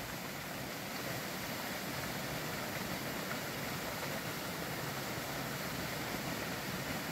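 Rushing water of a waterfall hidden somewhere in coastal undergrowth along a clifftop path, a steady broadband roar that stays constant throughout with no talking.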